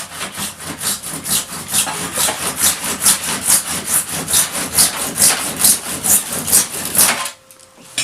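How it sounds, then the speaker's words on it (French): A small universal hand saw, normally used for plasterboard, cuts through a PVC window frame in a steady run of quick, rasping back-and-forth strokes, then stops just before the end. "Petite scie universelle, qui sert normalement pour le placo."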